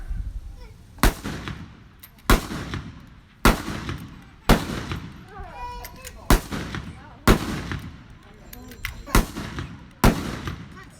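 A squad fires rifles one after another down the line, about nine loud sharp reports at roughly one-second intervals, each followed by a short echoing tail, with faint voices between the shots.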